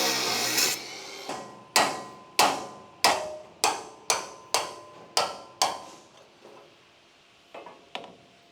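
Hammer blows knocking a broken clip off the steel rear deck of a StuG III tank, about a dozen sharp metallic strikes in a steady rhythm, close and alone, tapering to a few lighter taps.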